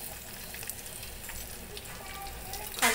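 Urad dal, chana dal and crushed garlic fry in hot oil in a home kitchen pan for palak pappu, a soft continuous sizzle with small crackles and a louder spitting burst at the end.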